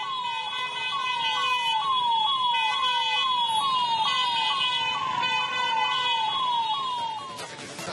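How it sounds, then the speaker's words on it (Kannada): An ambulance siren wails in steady repeated rising-and-falling sweeps, loud and close, while the vehicle sits stuck in a traffic jam near CBT in Dharwad, with a dense wash of traffic noise underneath. "ಟ್ರಾಫಿಕ್ ನಲ್ಲಿ ಆಂಬ್ಯುಲೆನ್ಸ್ ಸಿಲುಕಾಕಿಕೊಂಡಿತ್ತು"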